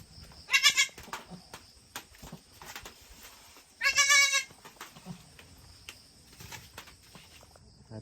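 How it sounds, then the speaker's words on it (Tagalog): Goats on a farm bleating nearby, two loud, quavering calls a few seconds apart over a faint background of crickets and small knocks. "At nandito pa po yung nandito yung ibang kambing namin."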